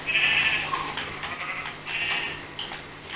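A few short, synthetic Minecraft sheep bleats sound close by, with quiet clicks and a low steady hum underneath.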